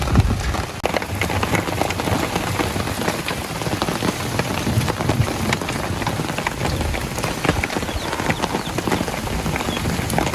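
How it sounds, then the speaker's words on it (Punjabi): Heavy rain pours down in a dense, steady roar, constant and loud throughout with no pauses. "ਪੂਰਾ ਤੇਜ਼ ਮੀਂਹ ਆ"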